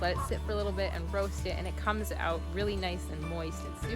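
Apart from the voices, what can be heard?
No distinct noise like a dog, phone or traffic.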